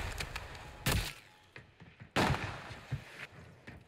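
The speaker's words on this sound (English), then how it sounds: "Good snipe from the enemy right there" Two sharp, loud gunshot cracks from a sniper rifle in the Warzone game, spaced about a second apart, with quieter thuds and clatter between and after, no voices.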